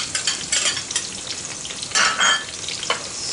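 Bottle gourd squash frying in a pan, with a steady sizzle and occasional stirring scrapes and clinks, close and moderately loud.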